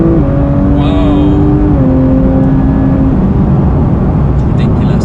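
A Porsche 992 GT3 Touring engine accelerates hard, its loud note climbing in pitch and then dropping with quick gear shifts, over a heavy rush of road and wind noise.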